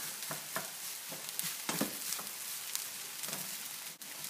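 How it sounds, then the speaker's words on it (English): Pre-cooked rice is broken up and stirred in a hot pan, a steady sizzle of frying beneath soft scraping strokes of a utensil, close up, with no one speaking. "So we're just breaking all the rice up here."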